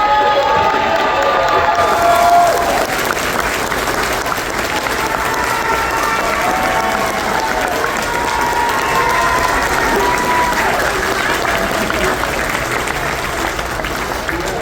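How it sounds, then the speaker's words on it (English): Wedding guests applauding steadily for about fifteen seconds, a dense, loud wash of clapping with cheers and shouts mixed in, staying full throughout after the couple's reception call for a round of applause. "if everyone could please rise if you're able to join me in a round of applause"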